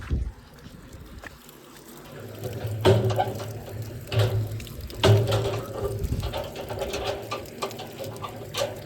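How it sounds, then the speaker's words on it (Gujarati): A water pump motor whirs and rattles mechanically nearby on a farm while water rushes and gurgles, with a few louder thumps and faint speech in the background. "આપણે મોટર ચાલુ કરી નાખી."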